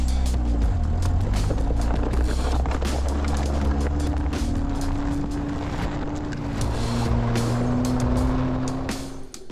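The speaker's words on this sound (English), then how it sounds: "I had it in like first, maybe second gear, just giving it all the beans, doing what I could to keep it going through these trails" A 62-horsepower 80s 4WD Toyota Tercel wagon on aggressive mud tires, carrying five people, pushes through icy trails in low gear with a loud, continuous strained engine drone and steady rumbling roar.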